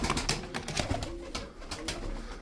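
Soft, low cooing from tumbler pigeons in a loft, mixed with fluttering and scratchy handling noise throughout.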